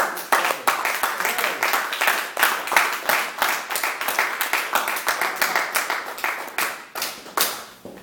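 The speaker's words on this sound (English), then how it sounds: "Big round of applause." A crowd applauds steadily, dense clapping continuing without pause for several seconds before thinning slightly at the end.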